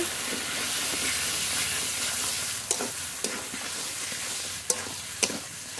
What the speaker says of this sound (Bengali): আলুটা একটু মশলার সঙ্গে মিশিয়ে নেব।